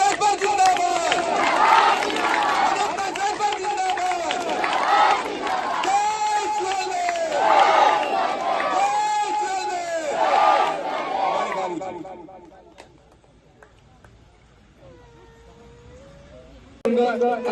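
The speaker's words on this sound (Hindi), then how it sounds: "साथ जोरदार नारा लगाइए और ताली बजाते हुए माननीय अखिलेश राजभर जिंदाबाद" A crowd at a Hindi political rally chants slogans and claps in loud, rhythmic surges, rowdy and massed for about twelve seconds, then drops away to quieter murmuring before a brief burst at the end.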